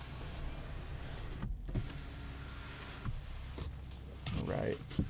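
Electric motor whirring inside a 2023 Jeep Wagoneer Series II Carbide as the sunroof and bug net open, a steady mechanical hum with a few soft clicks and a slight rise near the end, heard up close in the cabin.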